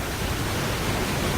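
Waterfall ambience in a UDK video game level: a steady, dense broadband rush that stays constant and fairly loud throughout, with no voices or other sounds over it.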